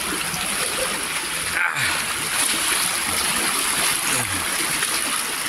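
Fast-flowing typhoon floodwater rushes steadily in a barangay in Kawit, Cavite, a continuous loud roar of current with occasional splashes, while someone talks over it.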